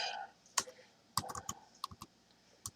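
Taps on an iPad on-screen keypad while entering a project name in a music app, a handful of sharp, separate clicks spread unevenly across a quiet background.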